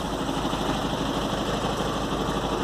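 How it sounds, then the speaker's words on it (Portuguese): A 1986 Volkswagen 6.90 truck engine running at a steady idle, a low continuous rumble that holds even throughout with no talking. "Vou dar uma ligada no motor."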